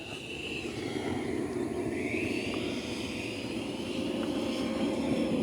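Hobby King F35 radio-controlled model jet with thrust vectoring coming in to land, a steady loud ducted-fan whine with gently sliding pitch, continuous and close throughout, no talk.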